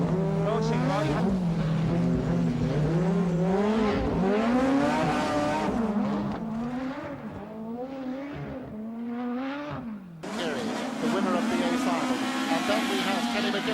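A rallycross car at a Larne Motor Club event runs on tarmac in third gear, its engine loud and near, revving and easing in long rising and falling swells, dipping briefly before surging back hard.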